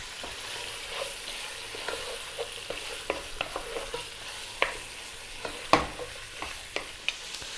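Lamb, garlic, onions, herbs and spices sizzle in a pot for a Greek lamb stew, a steady hiss under scattered sharp ticks and one louder knock from stirring, no talking.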